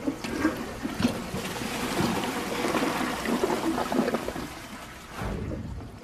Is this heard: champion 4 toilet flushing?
yes